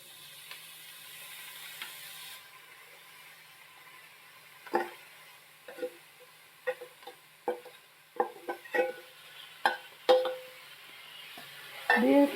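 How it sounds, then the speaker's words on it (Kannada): Green beans tipped into a pan with fried grated coconut and stirred dry, a quiet background hiss broken by a run of scraping and clattering stirring strokes that grow more frequent toward the end, no talk. "ಇವಾಗ ಬೀನ್ಸ್ ಹಾಕ್ಕೊತಾ ಇದ್ದೀನಿ."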